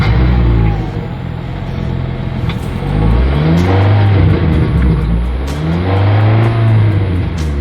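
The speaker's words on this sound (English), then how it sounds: "As always, here is that exhaust clip." A 2025 Hyundai Sonata N Line engine revs up and settles several times, a deep exhaust rumble rising and falling in repeated swells, fairly close and loud.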